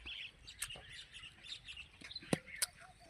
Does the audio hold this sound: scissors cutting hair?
no